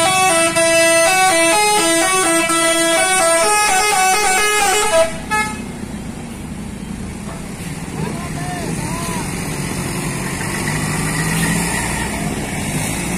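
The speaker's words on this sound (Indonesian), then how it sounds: "Disusul oleh bus Mega Trans Holiday." A Mega Trans Holiday tour bus passes a roadside spot at Galendo 2 in Ciamis and blasts a loud melodic multi-tone horn tune for several seconds. The horn is followed by engine rumble and traffic noise as the bus goes by.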